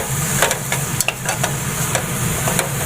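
A carrot and milk powder mixture is stirred in a pan, with regular soft scraping strokes over a steady sizzling hiss and no voices.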